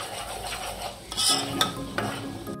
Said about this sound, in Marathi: मसाला आता आपण फ्राय करून घेऊया